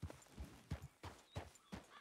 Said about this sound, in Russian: Сесть на лошадь.